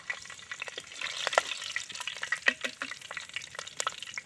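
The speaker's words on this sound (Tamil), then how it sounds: "கடுகு பொரிஞ்சிருச்சு ரெண்டு பச்சை மிளகா போட்டுக்கலாம்" Light crackling and spitting of mustard seeds and green chilies frying in hot oil, with small pops scattered throughout, close and fairly quiet.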